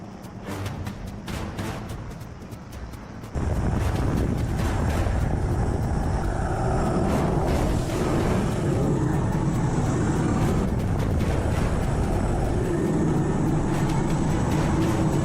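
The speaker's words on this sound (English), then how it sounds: "The crew was airlifted to safety by helicopter" A loud, steady rescue helicopter roar with rotor chop kicks in after a few quieter seconds and continues without a break.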